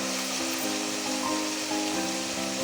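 Onions and tomatoes sauté in a pan as the base for lamb shank gravy, giving a steady, continuous sizzle with a faint tonal hum running underneath.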